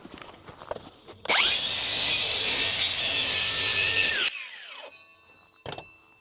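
Saw cutting steadily through a wooden roof rafter for about three seconds, a loud continuous rasping with a sharp start and stop, then a brief knock afterward; no talking.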